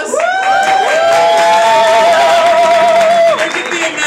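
A crowd at an engagement speech cheers and whoops loudly, with a long sustained shout riding over the noise for several seconds before it tapers off.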